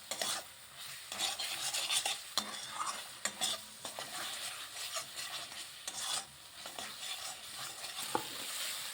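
Spices with sambar masala fry and sizzle in a pan while being stirred and scraped steadily, a continuous close hiss with scraping strokes throughout.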